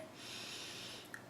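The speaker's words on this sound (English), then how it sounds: "breathe out" A long, steady, airy exhale close to the mic, soft and continuous as part of a calm breathing exercise, fading at the end with a faint click.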